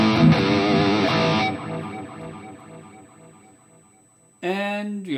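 Electric guitar boosted through an Exotic BB preamp on a Valeton GP-200 modeling unit, playing a gritty, driven chord phrase that decays, then a fresh strummed chord rings out near the end.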